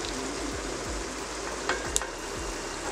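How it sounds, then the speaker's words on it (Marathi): Semolina cutlets frying in hot oil, a steady close sizzle with slow repeated stirring scrapes and a couple of brief sharp clicks. "मी आता बाकीचे पण फ्राय करून घेते।"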